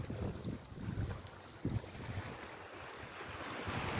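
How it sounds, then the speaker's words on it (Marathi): Waves and wind at sea as a boat approaches an island, with a steady washing surf and a gusting wind rumble. One louder slap of water stands out near the middle, and no one speaks. "आमची बोट येत आहे"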